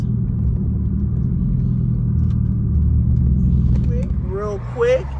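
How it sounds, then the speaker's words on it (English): SRT392 V8 with 64,000 miles gives a deep, steady low rumble up close, continuous throughout, with a voice speaking briefly over it near the end. "one of the best sounding V8s out there"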